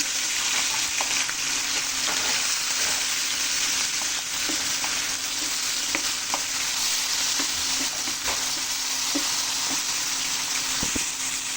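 Hilsa fish sizzles and crackles steadily in hot oil, a constant loud frying hiss with scattered sharp pops and no talking.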